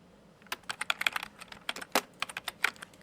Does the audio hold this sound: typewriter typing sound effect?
yes